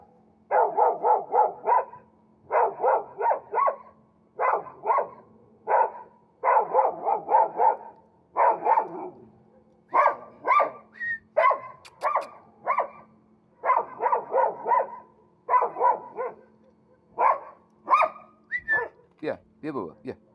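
A playful dog barks in quick bursts of several yaps, pausing between volleys, close and loud, with a person calling to it softly in between.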